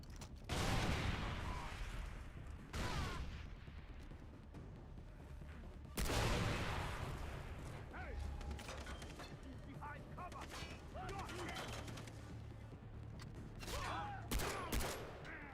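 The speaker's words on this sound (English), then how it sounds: "Man, they like throwing them nades." Far Cry 3 combat: bursts of gunfire crackle alongside grenade blasts, loud sharp volleys broken by short pauses across the stretch, with a player's voice talking over the action at times.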